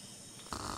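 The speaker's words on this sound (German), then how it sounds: "das war ein merkwürdiges Schnarchgeräusch" A strange snore rises in the survival video game Mist Survival at night, a short, low rumbling snort that swells abruptly after a moment of murmuring background noise.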